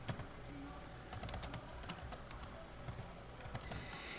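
Quiet, rapid clicking of keys on a computer keyboard, irregular taps in short bursts as a word is typed, faint and close with a low background hum.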